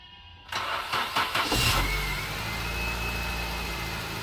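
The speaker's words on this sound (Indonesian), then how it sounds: "Mesinnya udah nyala." A used car's engine turns over with a few quick cranking bursts, fires up, and settles into a steady, smooth idle nearby.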